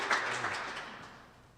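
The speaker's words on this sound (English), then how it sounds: "give a big round of applause for Stephen as he comes up" Audience applause for a speaker at an economic forum, a wash of many hands clapping that fades away over a second and a half.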